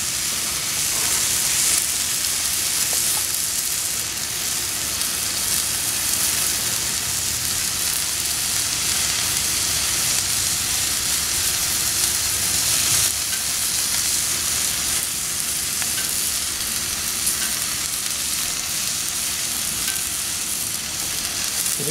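A steak sears in a pan over low heat while its fat renders, producing a continuous dense sizzle that stays loud, close and steady throughout with no voices.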